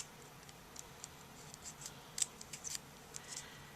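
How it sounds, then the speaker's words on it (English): Scissors trim a paper card for a Stampin' Up! stamped card kit, making a quiet, irregular run of small crisp snips close to the microphone. "You just want to take your scissors"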